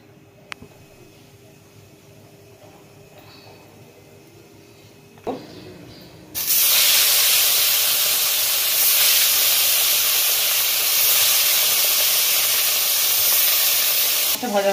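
Fish from Gangarampur dropped into a hot wok, a quiet stretch with a brief clatter before a sudden loud, continuous sizzling hiss of frying that stays strong and steady to the end.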